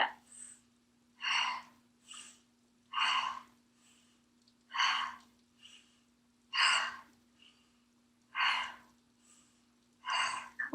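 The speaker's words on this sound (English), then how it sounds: "Just a little inhale, exhale, inhale, exhale, inhale, exhale," Slow, steady breathing during a gentle yoga session, a series of soft airy inhales and exhales repeating every second or two, close and quiet, with no talking.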